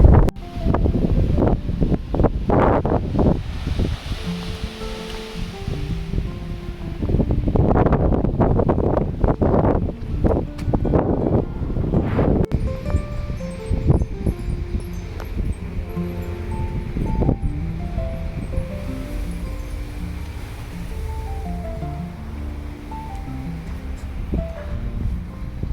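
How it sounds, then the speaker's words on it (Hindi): Strong wind blasts across the microphone outdoors, roaring in loud gusts that rise and fall, heaviest in the first half and then settling into a steadier rush, with faint tonal sounds in the background. "लेकिन हवा बहुत तेज़ है"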